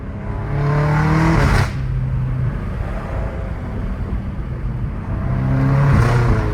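A BMW M5 F90 Competition with a full titanium exhaust and downpipes revs hard twice, each rise a loud close engine note with shifts, and a steadier rumble between them.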